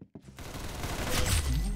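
Rapid gunfire bursts in a Roblox prison-escape game, a dense continuous fusillade that grows louder toward the end with no speech over it.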